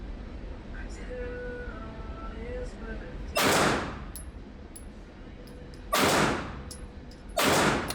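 Pistol shots from a Canik fired at a shooting range at seven yards, three loud sharp reports spaced a couple of seconds apart, two close together near the end, with faint background noise between.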